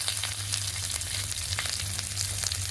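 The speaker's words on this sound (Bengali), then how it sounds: "এই যে পেঁয়াজ কাটাটা তেলের ভিতরে দিয়ে দিলাম।" Chopped onion fries in hot oil with black cumin seeds, making a dense, even sizzle that holds steady throughout, close and loud with nobody speaking.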